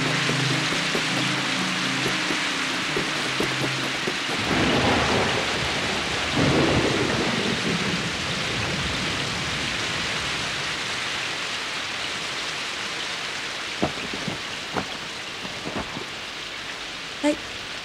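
Rain sets in during a windy outdoor scene in the Moomins animated story, a steady broadband hiss of falling rain with low rumbling thunder early on and a few sharp drip or crack transients near the end; no speech.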